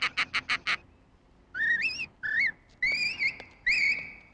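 A Spanish canary imitated by whistling opens with four short, sharp chirps, then moves into longer, wavering warbled notes with a few sustained tones, heard close and alone over light background hiss.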